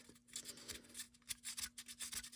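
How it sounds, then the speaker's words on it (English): Hand sanding a Hi Point C9 pistol part: soft, repeated rasping strokes against a hard surface, close by and fairly quiet, with an uneven back-and-forth rhythm. "do a little bit of sanding on it"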